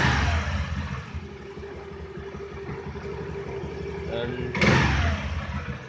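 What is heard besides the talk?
Honda Aviator scooter engine started and running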